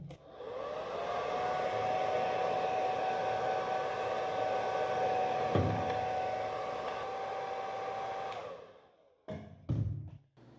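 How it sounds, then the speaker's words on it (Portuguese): A hair dryer on its warm setting blows steadily and close up for about eight seconds, drying a cleaned RAM stick, then cuts off, followed by a few soft knocks and handling sounds. "vou aplicar aqui o secador de cabelo na temperatura morna"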